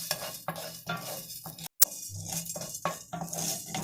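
Urad dal roasting in a pan alongside lightly roasted chana dal, stirred with a metal spoon in a steady rhythm of scraping strokes and soft clinks, close and clear with no talking.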